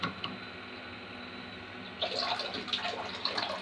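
Water rushes into a toilet cistern through a diaphragm ballvalve, a steady hiss that swells into a louder, splashier flow partway through, close and with no talk.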